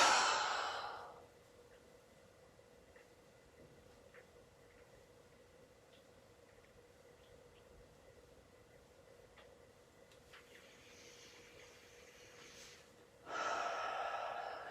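A deep yoga breath during a vigorous home yoga session: a loud, close breath opens the clip, a long near-silent stretch with faint room hum follows, and another strong breath rushes in at the end.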